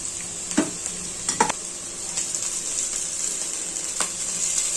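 Egg noodles added to lightly cooked cabbage, capsicum and carrot in an oiled pan, a constant bright sizzle punctuated by a few sharp scrapes and taps of the spatula.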